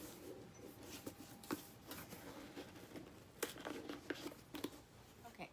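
Close crinkling, tearing and scraping of packaging material, with scattered sharp snips and rustles in an otherwise quiet room.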